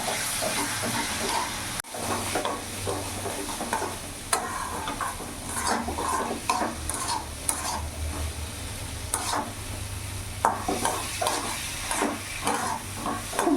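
Katla fish pieces with green peas being stir-fried and simmered in a pan over a medium gas flame with a splash of water, giving a steady close sizzle broken by repeated scraping stirs throughout.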